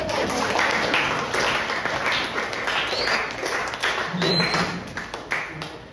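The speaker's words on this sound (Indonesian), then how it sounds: "Boleh dong tepuk tangan juga" A school class claps together, a lively patter of many hands close by that continues through the clip, with brief talking mixed in.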